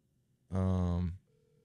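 A single telephone ring tone, roughly 0.7 s long, sounds clearly and loudly once while a call waits to be picked up. It is followed by quiet background hum.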